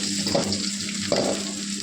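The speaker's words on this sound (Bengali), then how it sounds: "তারপর দিয়ে দিলাম শুকনো লঙ্কা, তার সঙ্গে দিয়ে দিলাম কারি পাতা। এটাকে হালকা একটু সট করে নেব।" Dry chillies, curry leaves and garlic sizzle in hot oil, a continuous close crackle broken by two short stirring scrapes.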